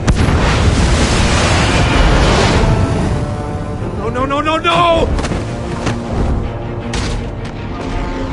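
Explosion from the Riddler's trap in a Batman game: a loud, heavy blast fills the opening seconds and then decays into rumbling debris, with a voice briefly cutting in near the middle.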